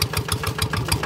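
A tractor engine runs while plowing a sloping rice paddy, a loud, close, steady putter with a fast regular beat and no talk over it.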